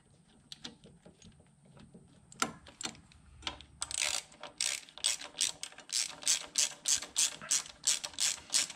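A hand wrench ratchets on the track of a 2011 Yamaha Apex snowmobile during a track change, first scattered clicks, then a fast, regular run of loud close ratchet strokes, with no talking.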